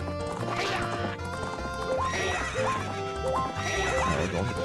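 Horses in a race in the video game Majora's Mask whinny loudly and repeatedly over galloping hoofbeats, backed by game music, with no one speaking.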